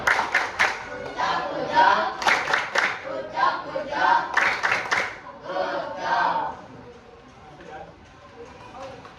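A class of students claps together during a lesson, a few seconds of quick rhythmic group clapping close by, mixed with chatter and the teacher's voice, then fading to quieter talk.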